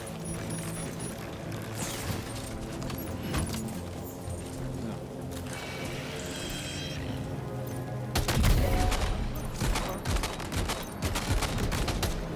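Gunfire in the video game Death Stranding 2 comes as rapid bursts of sharp shots against a busy game soundscape, growing louder and denser in the final seconds.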